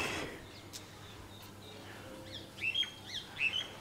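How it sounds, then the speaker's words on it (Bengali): Several birds chirp and squawk from a rooftop in a village setting, brief bright calls clustering toward the end over a low steady background hum, moderately near and fairly faint. "প্রচুর পাখি রয়েছে"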